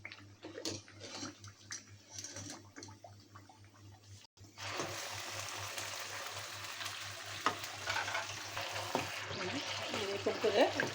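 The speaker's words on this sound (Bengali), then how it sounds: "এখন আমি পিঠাগুলো এক এক করে এটার মধ্যে দিয়ে দিই, আর চুলাটা আমি অন করে দিলাম" Pitha rice cakes fry in oil on the stove: quiet clatter and handling at first, then a sudden steady sizzle rising and holding loud and close, with faint scrapes.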